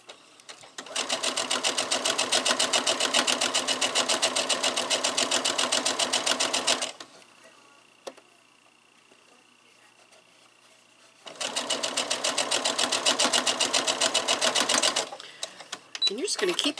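A sewing machine runs steady rapid stitching along a quarter-inch strip-quilt seam in two long bursts with a quiet pause between them, close and loud, with a person talking softly during the pause.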